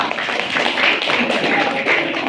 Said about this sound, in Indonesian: Kalau hari ini Senin kita dibayari Pak Eko, tepuk tangan dulu ya.